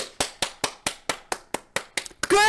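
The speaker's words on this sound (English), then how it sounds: "golf clap? Golf clap?" About ten evenly spaced hand claps in a slow, polite rhythm, crisp and close, ending in a brief flurry of quicker claps cut off by a burst of sound.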